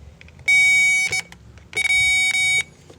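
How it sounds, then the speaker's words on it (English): Two sustained electronic beeps, each roughly a second long, sound close and loud during fuel pump testing on a Hyundai Santa Fe with a crank-no-start fault, separated by a short gap over faint background noise. "let me turn off the beeping sound"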